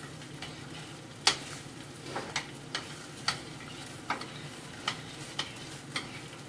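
Food frying in a pan turned up to high heat, a steady sizzle under repeated sharp clicks and taps of a utensil against the pan at uneven intervals, close and moderately quiet.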